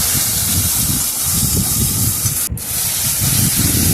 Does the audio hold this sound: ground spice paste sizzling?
yes